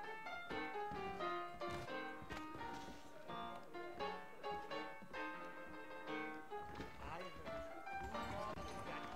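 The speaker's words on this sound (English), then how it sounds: "I got the horses saddled up and ready out front." Saddled horses clip-clop in the Western video game Red Dead Redemption, rhythmic hoof beats running under a bed of music and game sound throughout.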